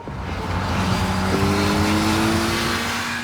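A Kawasaki Z900 engine pulling steadily under acceleration, its tone rising in a smooth continuous drone, loud and close for a few seconds with no talk.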